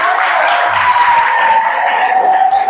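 Clapping from a youth convention audience in a parish gathering, a dense continuous wash of many hands that stays loud and steady throughout, with a faint sustained tone running beneath it.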